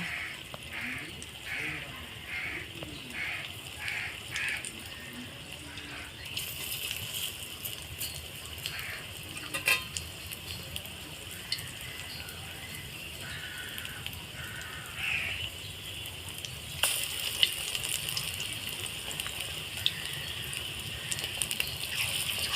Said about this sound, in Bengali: দেখুন বন্ধুরা আমার এখানে রিফাইন অয়েলটা গরম হয়ে গিয়েছে এর মধ্যে আমি পেঁয়াজিগুলো ভেজে নেব